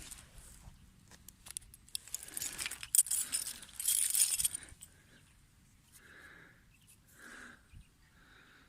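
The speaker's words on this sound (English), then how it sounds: "That's a car keys job, I think." Metal car keys scrape and jingle against the ground of a field while digging up a coin during a field walk, a run of busy metallic clinking and scratching, then quieter intermittent rustles.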